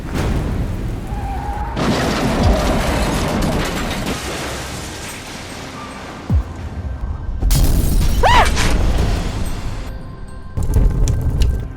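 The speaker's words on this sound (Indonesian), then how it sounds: "masuk jurang dan meledak." A loud crash of shattering glass and crunching metal as a car plunges into a ravine, followed by booming impacts and rumbling debris, with a sharp burst near the end as the car explodes.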